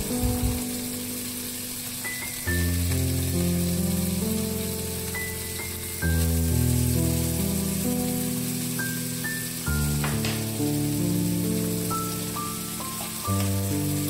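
Beef steak and vegetables frying in margarine in a pan make a steady, loud sizzling hiss that runs the whole time, mixed with background music playing sustained chords.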